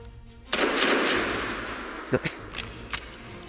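A burst of rapid gunfire erupts after a brief quiet start, followed by a few sharper isolated shots fading out.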